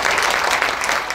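Guests clap together at a Nepali wedding ceremony for Prakash and Rashila, a brief, dense burst of steady applause filling the room at close range.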